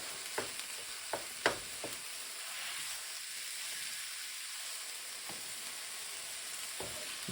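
Bison and onion sizzle in a pan with a steady, close frying hiss, punctuated by a few sharp spatula scrapes and taps as the mixture gets stirred, no voices.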